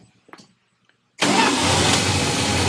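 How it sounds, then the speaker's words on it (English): A 1966 Plymouth Fury V8 catches after near-silence and a faint click, then settles straight into a loud, steady, rumbling idle close by, with no talk. "Oh, she started up like a dream."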